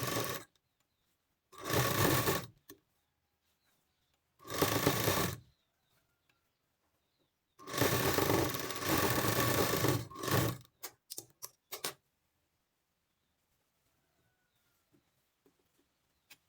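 A sewing machine stitching a double seam on an unlined blouse, running in three loud close bursts of rapid mechanical whirring separated by silence, then a few short clicks.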